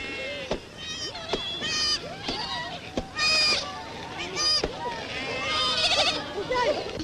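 Several sheep bleat loudly and repeatedly in a crowded sheepfold in a 1934 French-Berber film, their overlapping wavering cries close by, with sharp clicks mixed in.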